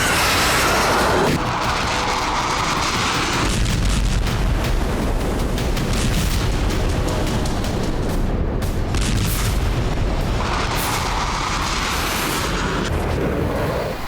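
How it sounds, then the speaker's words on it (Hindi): Missile strike explosions at Hodeidah port in Yemen, heard as a dense, continuous roar of booms and rumbling blasts that overlap one after another for the whole stretch, loud and sustained with no talk. "एक के बाद एक कई धमाके हुए और हुदैदा पोर्ट तबाह हो गया।"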